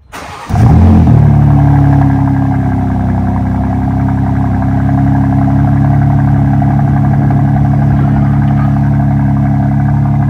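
A manual BMW G82 M4 cold-starts in M1 mode with exhaust valves open: a sharp starter bark flares into a loud high idle that settles into a steady, droning engine hum close to the microphone.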